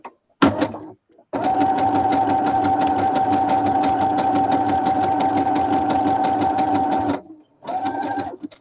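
A sewing machine runs a zigzag stitch along the edge of a patchwork pillow, a loud steady mechanical whirr in long bursts with brief stops between them.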